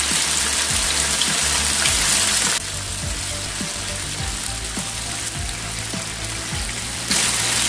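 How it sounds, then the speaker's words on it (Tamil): Small nethili anchovy fish fry in a pan over a medium flame, with a steady, dense crackling sizzle throughout, a slightly louder burst at the start and end, and soft low knocks of the pan underneath. "ஸ்டவ் வந்து மீடியம் ஃப்ளேமில் வச்சு ஃப்ரை பண்ணுங்க"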